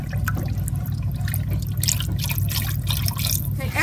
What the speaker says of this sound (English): Adding our milk to our bechamel sauce.